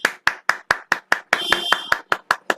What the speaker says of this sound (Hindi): हमारे पुराने लोग हमारे नए वाले लोगों के लिए एक बार जोरदार ताली होनी चाहिए